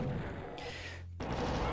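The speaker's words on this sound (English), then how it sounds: "Trying to change away from the plasma rifle and I've just brought out the crappy shotgun." Shotgun fire in Doom II on the Waste Tunnels level: a short, dense blast of gunfire that stands out against steady game noise, with no talking.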